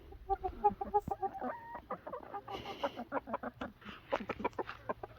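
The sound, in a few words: chickens clucking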